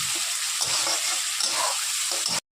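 Fish fat sizzles hard in hot oil in a pan, a dense, steady frying hiss with faint stirring knocks underneath, running loud and unbroken before cutting off abruptly.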